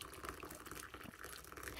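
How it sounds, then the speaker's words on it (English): Tea is poured from a kettle into a cup as a faint, steady stream of liquid that lasts throughout, with no voices. "I made myself an entire kettle of tea. I'm gonna pour myself a cup."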